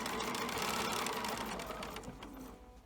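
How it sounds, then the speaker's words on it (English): A sewing machine stitches fabric over a seam on a dress with an elastic waistband, a close, steady mechanical whir that runs for a couple of seconds and then slows and fades. "I'm going to carefully sew"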